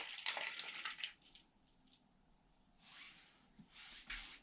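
Antifreeze coolant drains from a KTM 300 engine with the cap left on. It makes a faint, hissing gush that comes in two short bursts with quieter trickling between them.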